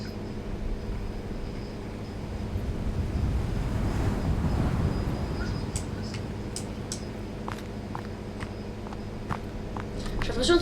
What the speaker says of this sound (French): Pourquoi j'ai entendu le vent et ça me fait peur?